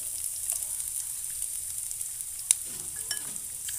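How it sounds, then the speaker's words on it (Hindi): Chopped onion and green chillies with crushed spices frying in a pan for bread samosa filling, a steady close sizzle throughout with one sharp pop and faint stirring scrapes. "इन सभी को हम अच्छी तरीके से मिक्स कर लेंगे और प्याज के हल्के से सॉफ्ट होने तक इसे पकाएंगे"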